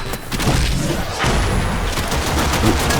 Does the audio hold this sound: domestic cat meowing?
no